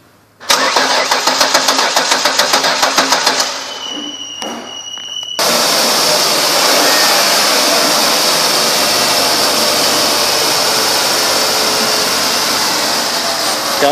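A 2007 Ford Taurus SE engine cranks with a rapid starter whir, catches, then settles into a steady, loud running idle that continues to the end.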